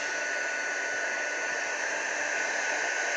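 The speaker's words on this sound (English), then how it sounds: "So what I'm going to do now is just grab my heat gun" A heat gun drying Brusho ink on paper blows a steady, close, loud airy hiss without a break.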